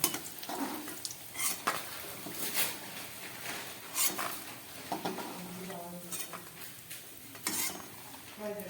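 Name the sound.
fried lentil dumplings (bori) being lifted out of hot oil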